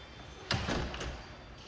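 An interior door into a home's kitchen opens with a single brief, soft thud followed by a faint sliding rustle in an otherwise quiet room.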